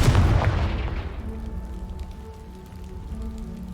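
A Confringo spell explosion in the video game Hogwarts Legacy erupts as a loud booming blast, then fades into a long rumbling decay with crackling debris that trails off over several seconds.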